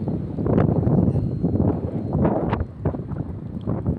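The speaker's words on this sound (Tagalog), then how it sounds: "Pagdating po dito, papasalubong na yung hangin" Steady wind roars and buffets the microphone with rumbling gusts throughout, a constant rough rush of air with no clear voices.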